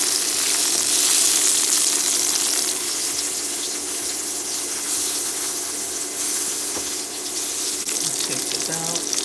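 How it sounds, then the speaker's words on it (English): Garlic mushrooms sizzle steadily in a pan with salt added, a bright, constant frying hiss heard up close and holding strong for the whole stretch, with no voice over it. "It takes about 15 minutes to cook these mushrooms."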